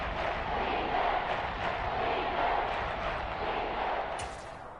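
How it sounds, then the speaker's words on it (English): Crowd cheering in Madden 23 football as an NFL Saints vs. Falcons game nears a big third down, a steady broad roar of stadium noise that holds throughout and eases slightly near the end. "The crowd getting into it as we come up on a big 3rd down"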